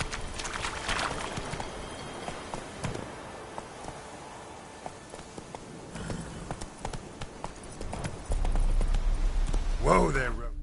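Roach the horse galloping in The Witcher video game, a steady rhythmic clip-clop of hooves running close, then slowing to a stop, with a voice speaking over it near the end.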